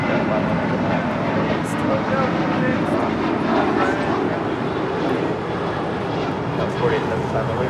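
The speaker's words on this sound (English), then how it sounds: "This is American Airlines 1270 departing to Phoenix on a 737-800." An American Airlines Boeing 737-800 departs Los Angeles International Airport, its jet engines a loud, sustained broadband roar that holds steady throughout.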